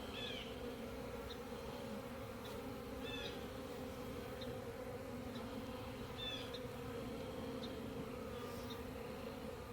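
Honey bees in a hive that is likely queenless with drone-laying workers, making a steady, dense, close buzzing drone. A few individual bees zip past, and no one speaks.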